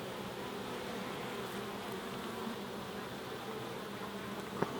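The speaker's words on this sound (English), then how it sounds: "there's quite a lot of bees coming in this" Honey bees flying into a hive in a dense, steady buzzing drone, close and continuous.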